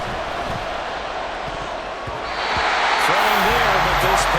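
A stadium crowd in the football video game Madden NFL 24 jeers at a Buffalo game, a broad roar of voices rising in intensity while a commentator talks over it.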